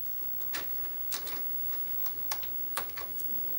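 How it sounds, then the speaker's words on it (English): Plastic retaining clips popping as the screen bezel of an ASUS X555L laptop is pried away, a string of small, sharp ticks and snaps at uneven intervals, close and fairly quiet. "pry a little corner away, and you'll hear the same pops as you did with the keyboard."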